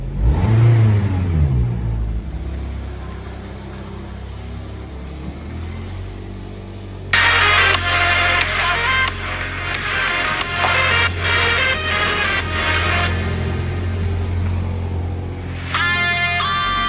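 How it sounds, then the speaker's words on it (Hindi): A modified Toyota Corolla engine on a cold start, idling close by with a steady low rumble, then blipped into a sustained loud rev at around seven seconds, with one more short rev near the end and no talk. "तो थोड़ा सा एक्सीलेटर मार के अपन गाड़ी को कूल स्टार्ट कर दें।"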